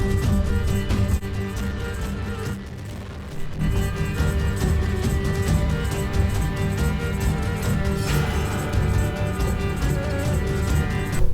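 Music from a live composing session built on virtual instruments, with a light tape-fuzz saturation effect added to the recording. The mix is dense and continuous, with a short drop in level near the start.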